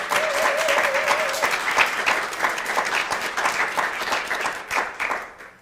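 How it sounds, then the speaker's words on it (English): Guests at a university certificate ceremony give a round of applause, dense clapping close and fairly loud, with a brief tone at the start, then tapering off toward the end. "So let's give them a round of applause as well."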